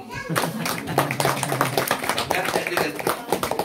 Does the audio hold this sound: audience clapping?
yes